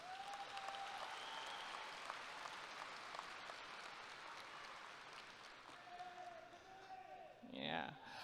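Distant, soft applause from a crowd at a high school graduation ceremony, steady clapping with a brief voice and a louder rustle near the end.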